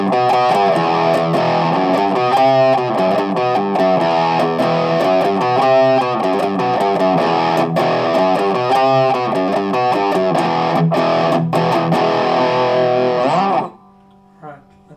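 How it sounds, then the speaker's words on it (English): Heavily distorted electric guitar through a Boss DS-2 Turbo Distortion pedal with distortion maxed out, chugging through chords and riffs, loud and continuous for about fourteen seconds, then cutting off abruptly to near silence. "I'm going to also max it out, the distortion mode, and see how that sounds"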